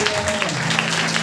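A church congregation claps loudly together in a dense burst of applause that fills the room, with no one speaking over it.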